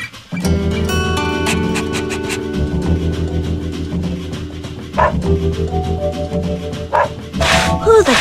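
Dog barking in the Dog's Life video game, a sustained run of loud, close woofs and yips over a droning game music bed, with a few sharp bursts near the end.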